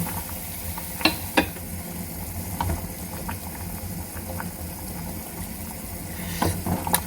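A pot of Thai clear soup with Jerusalem artichoke bubbles at a steady low simmer, with a soft continuous hiss and a few sharp clicks and taps from the pot near the start and end.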